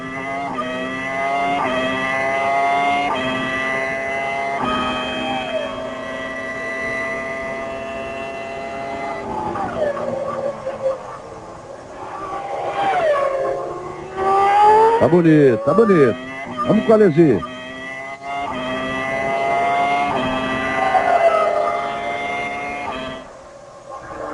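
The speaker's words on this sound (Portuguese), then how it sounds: "esse ronco do motor é música, né? É uma melodia belíssima, que mexe realmente com as pessoas." Formula 1 engine howling onboard Jean Alesi's car at the 1999 Malaysian Grand Prix, loud and close, its pitch climbing and dropping sharply through gear shifts and braking, with a commentator talking over it.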